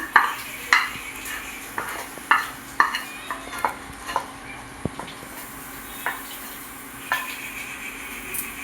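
A spoon scrapes and knocks through palm sandesh mixture drying in a kadai, sharp irregular clacks roughly every half second over a low sizzle, close and alone.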